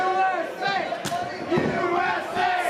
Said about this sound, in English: USA, the chant from the crowd.